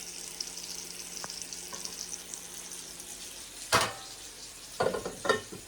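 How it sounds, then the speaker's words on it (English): Chicken breast frying in a pan, a steady moderate sizzle running throughout, broken by a few louder clattering bursts of movement near the end. "Now all I have left is the spices and the chicken breast, which is still cooking."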